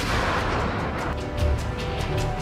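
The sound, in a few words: artillery and gunfire sound effect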